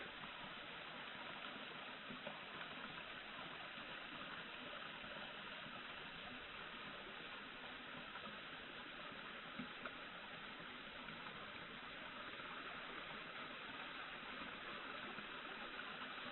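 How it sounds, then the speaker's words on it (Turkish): Continuous gentle rush of a tall waterfall with seasonally low flow, steady and fairly faint, with no voices. "Şelalenin suyu mevsim dolayısıyla oldukça azalmış."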